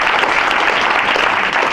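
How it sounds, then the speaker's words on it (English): Dense, steady applause from an audience at a live tech event at Juniper Networks, loud and continuous with no break, no voices heard over it. "big round of applause"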